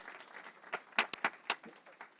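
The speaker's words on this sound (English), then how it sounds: "Let's give him an applause again." Audience applause at an English-language academic event, faint and scattered, with a few sharper individual claps standing out from a soft wash of clapping.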